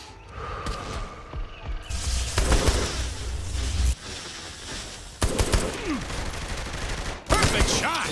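Gunshots in Saints Row: The Third during the Genkibowl VII event, loud volleys in separate bursts with sharp cut-offs, mixed with game sounds and a voice in the background.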